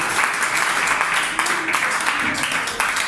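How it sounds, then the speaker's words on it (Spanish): Congregation applauding during a Sunday-morning church service, a dense, steady wash of clapping that holds for about three seconds with voices mixed in underneath. "Alguien aplaude la presencia de Dios en esta mañana"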